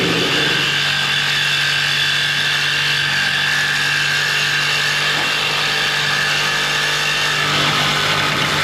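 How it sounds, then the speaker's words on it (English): A Sawzall reciprocating saw cuts through a bolt on a vehicle's spring overload setup, giving a steady, loud, continuous buzzing whine that runs alone and unbroken throughout. "Got a Sawzall coming in here. Just gonna chop this bolt"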